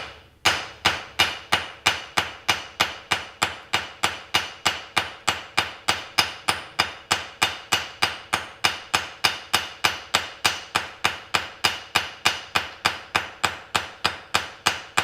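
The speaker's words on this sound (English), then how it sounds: "Never used the ball peen for that. I'm gonna do it down here though." A ball peen hammer strikes hot metal during a forging session in a steady, fast rhythm of about fifty sharp, ringing blows, close and loud, with no talk over it.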